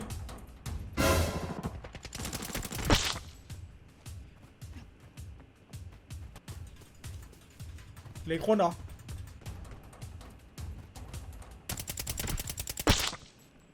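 Rapid bursts of AK rifle fire in the game Arena Breakout, several volleys spaced apart, with a person talking between them.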